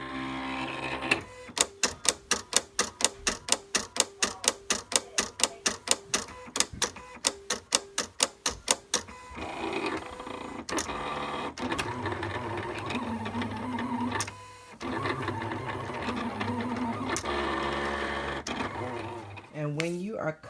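Silhouette Cameo cutting machine slicing glitter heat transfer vinyl with an automatic blade at speed 10, giving a fast run of rhythmic clicking motor pulses, then a steadier whirring drive with occasional clunks, close and loud.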